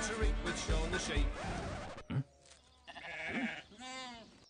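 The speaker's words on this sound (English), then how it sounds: "Comes everyone's favorite farm animal, Shaun the Sheep." A cartoon sheep from Shaun the Sheep gives a short bleat near the end, after a voice-over and a few brief thumps, against a quiet farmyard-style backdrop.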